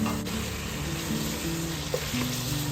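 A dense, loud sizzle roars steadily from a hot pan of pulao biryani spices after chicken stock goes in, with faint stirring beneath the continuous hiss.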